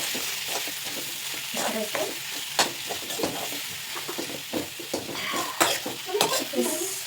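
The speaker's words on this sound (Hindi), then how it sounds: "मैं इसको फिर से थोड़ा सा फ्राई करूंगी मसालों के साथ" Sambar masala spices frying in a hot pan with vegetables, a steady sizzle broken by scraping stirs of a spoon and a few clinks against the pan, close and fairly loud throughout.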